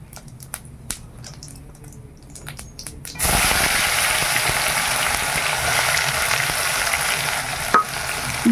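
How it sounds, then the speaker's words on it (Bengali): Bay leaf, cumin and dried chilli hit hot oil in which sugar has just caramelised, for a village-style desi chicken curry, bursting into a loud, steady sizzle and crackle after a few seconds of quiet clinks and taps. "চিনিটা তেল থেকে উঠে গেছে, তেজপাতা, জিরা আর শুকনো লঙ্কা দিয়ে দিলাম ফোড়নে।"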